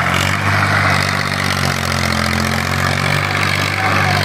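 A tractor engine, a Massey Ferguson 241 or Mahindra 255 stuck in a wet sugarcane field, runs steadily with a continuous low chugging drone, loud and close, without a break.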